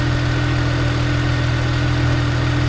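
A Chevrolet Malibu or Silverado engine idles steadily up close in a repair garage, a constant low droning hum with an even tone and no revving, heard alone.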